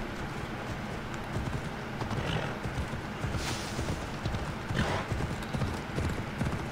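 Steady hoofbeats of a running horse in Assassin's Creed Odyssey over a dense, rumbling background, continuous and fairly close throughout.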